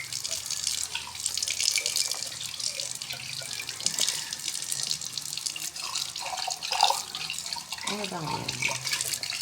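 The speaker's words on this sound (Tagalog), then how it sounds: "Siya naman naghuhugas ng pinggan." Tap water runs steadily into a sink as dishes are washed, with a constant splashing hiss, occasional clinks and drips, and a person speaking briefly over the flow.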